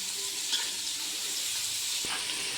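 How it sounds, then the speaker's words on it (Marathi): Two large sliced onions fry in a pan for soybean pulao, giving a steady, even sizzle with a few faint stirring touches throughout. "आता आपण चांगलं लालचा रंग येईपर्यंत भाजून घेऊया"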